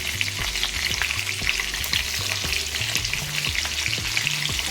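Stuffed green chillies fry in a pan over a medium gas flame, giving a steady close sizzle broken by regular thumps and scrapes as they are turned, with no voices.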